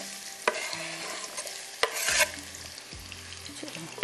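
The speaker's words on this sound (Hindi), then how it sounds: "चलो जी, ये प्याज आ रहा है इसमें" Onions frying in a pan for a green masala fish dish, a soft steady sizzle with scraping stir strokes and a few sharp clinks of a utensil against the pan.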